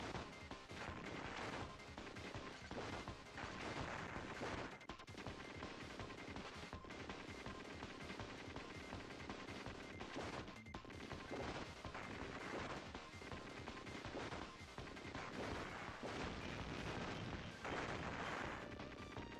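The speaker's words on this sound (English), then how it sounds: "Boy, it's a lot of explosions." Dense explosions and gunfire from the Contra: Hard Corps video game pound almost nonstop, loud crashing blasts and rapid shots overlapping in a continuous barrage with only brief dips.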